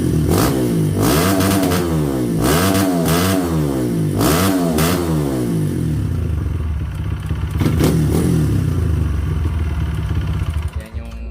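Kawasaki KLX150L trail motorcycle engine blipped through a run of sharp revs, rising and falling in quick bursts, then settling to a rough idle with one more short rev; close and loud, no talking.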